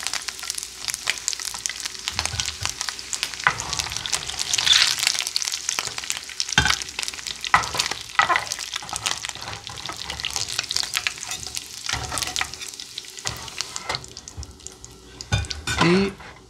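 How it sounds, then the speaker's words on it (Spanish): Food sautéing in a pan while cooking stuffed rice, a steady soft sizzle with intermittent clinks and scrapes of a utensil stirring against the pan, fairly quiet and close. "vamos siempre a sofreír"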